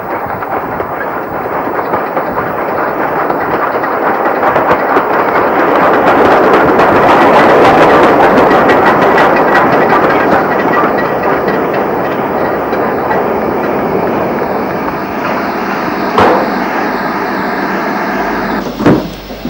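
A passenger train bound for Denbigh rolls in under a road bridge on the Mold to Ruthin line, a loud, steady rumble of wheels and clickety-clack on the rails that swells and then holds, with a brief squeal near the end.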